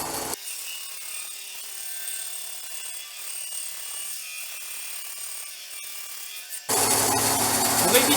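A woodworking spindle moulder and band saw run with a steady whining hum while ripping a board, then the sound jumps abruptly to a much louder, rougher cutting roar near the end.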